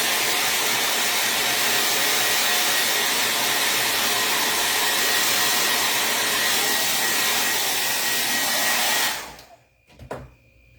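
A dryer blows loudly and steadily at close range to dry chalk paint on a porch sign. Its roar fills several seconds, then cuts off abruptly, leaving a few faint knocks.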